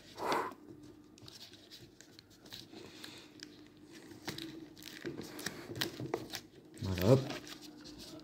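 A Pokémon card Elite Trainer Box, a Celebrations set holding five boosters, is opened by hand with soft crinkling and scraping of cardboard and plastic, building to a louder rustling burst near the end, while a person talks intermittently.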